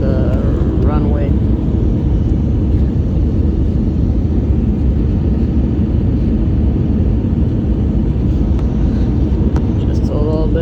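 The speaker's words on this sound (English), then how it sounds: "We're now approaching the runway." An Airbus A320 airliner with CFM56 engines on final approach to the runway at Lima, heard from inside the cabin as a loud, steady engine roar and rumble that never lets up, with a person talking over it.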